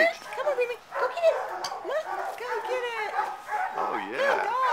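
An energetic, playful dog yips and whines excitedly during a game of fetch, a string of close, high-pitched barks and whimpers with people talking over them.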